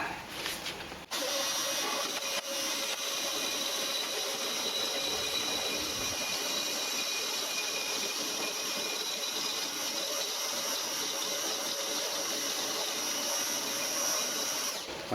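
Milling machine making light cuts on metal, a steady broadband whirring grind that runs continuously after a brief start, moderately quiet and close, with no talking.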